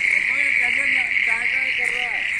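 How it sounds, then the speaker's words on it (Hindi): Frogs croak through steady rain in a flooded Delhi park during the season's first downpour, with a few repeated calls rising over the constant hiss of rainfall, close by and fairly loud. "हाँ टाई टाई कर रहा है ये मेंढक है"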